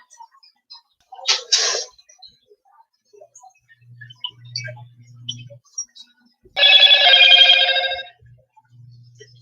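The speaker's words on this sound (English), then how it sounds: "So I got my phone going off." A phone goes off with a short buzzy burst, then a louder electronic ring of a second or so after a pause, set against a quiet indoor room with small clicks and low hum.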